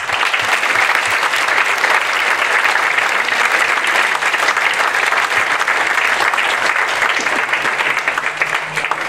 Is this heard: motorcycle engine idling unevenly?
no